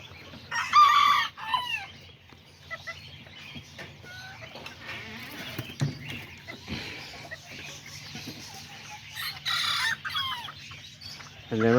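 Serama and Azteca chickens in a backyard pen, a rooster crowing near the start and again later amid scattered clucks and calls from the flock.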